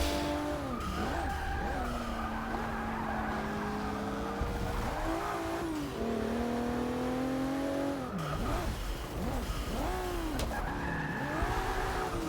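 A Volvo S60 race car in Forza Motorsport 6 screeches and skids through corners with rising and falling engine revs, continuous tire squeal swooping in pitch over a constant roar.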